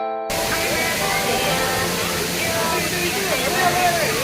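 Steady broadband rush of the Valasa waterfall, close and loud throughout, with faint voices and tonal sounds mixed underneath.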